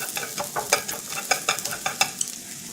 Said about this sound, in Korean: 마늘이 어느 정도 향이 날 정도로만 해서 볶으시고